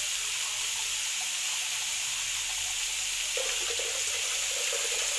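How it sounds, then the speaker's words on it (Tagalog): Water pours into a hot pan of bitter gourd and squash, a loud steady hissing rush with sizzling that continues throughout and swells slightly near the end, without voices. "Mag-a-add tayo ng water"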